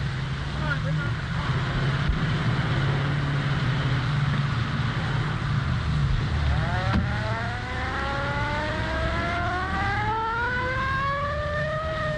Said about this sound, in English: Come on, start it up. That's it. Come on, now, bring that car around there.